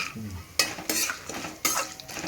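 Chana dal, urad dal and cashews fry in a pan, giving a few short bursts of scraping and sizzle over a faint background hiss, with no speech.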